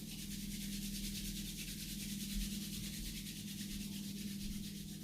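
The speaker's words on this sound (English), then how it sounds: "Bringing those hands together, rubbing them to warm them." Hands rub briskly together to warm them during a hatha yoga session, a soft, continuous friction hiss that holds steady and close throughout with no talking.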